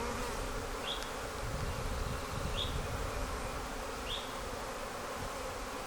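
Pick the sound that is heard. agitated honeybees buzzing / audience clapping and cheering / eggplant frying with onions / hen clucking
agitated honeybees buzzing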